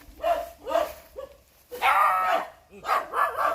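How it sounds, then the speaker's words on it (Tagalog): A dog barks several times in short bursts, close by, with a voice calling between the barks. "Heyo! Heyo! May aso."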